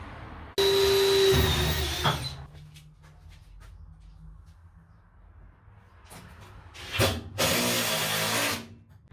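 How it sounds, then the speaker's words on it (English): Two bursts of a power drill boring a 1/8 inch pilot hole for a sheet metal screw while framing a skoolie ceiling, the first loud and whining for about two seconds, then a pause with faint handling noises before a second shorter burst. "They're not self-tapping, so I have to drill a pilot hole"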